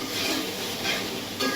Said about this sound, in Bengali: মশলা এই তো তেল ছেড়েছে